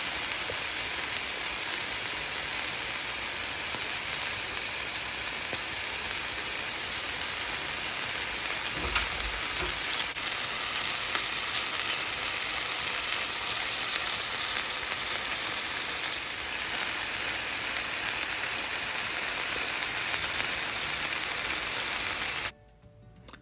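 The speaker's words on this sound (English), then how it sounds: "Get a nice sear on them." Soy-glazed chicken pieces sear in a hot pan, giving a steady, dense sizzle that holds at an even level for over twenty seconds before cutting off abruptly near the end.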